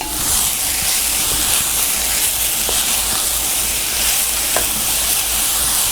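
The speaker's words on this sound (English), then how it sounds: "let that start to cook down in here with my Brussels sprouts" Brussels sprouts sizzle and fry in a hot pan, a loud continuous hiss with occasional small stirring clicks.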